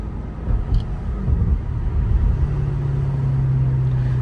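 A Chevrolet Corvette C8 engine and exhaust rumble while driving, a loud low growl that rises and then settles into a steady droning note.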